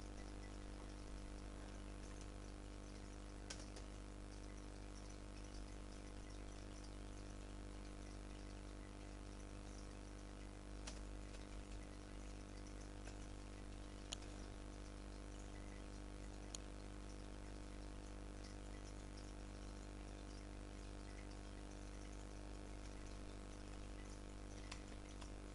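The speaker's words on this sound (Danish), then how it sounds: "Vandfald!" Steady rushing of a waterfall in Minecraft, a faint, unbroken wash of falling water that runs evenly throughout with no voices over it.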